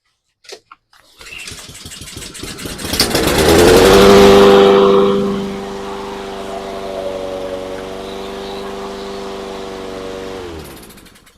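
A Honda GCV160 lawn mower engine is pulled over with a few sharp clicks, catches, revs up loudly, then settles into a smooth, steady idle before cutting off.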